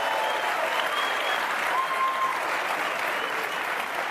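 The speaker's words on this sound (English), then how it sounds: "They applaud when you smoke." A crowd of students in an audience applauds steadily, a dense and sustained clapping that holds at an even level throughout, with no voices rising above it.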